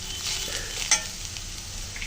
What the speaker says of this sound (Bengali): আলু পেঁয়াজ সুন্দর করে ভেজে নিলাম